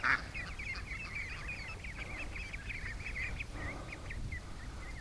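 A duck that may be limping on a sore foot gives a string of soft, rapid quacks. The calls are faint against steady low background rumble, with one louder call at the very start.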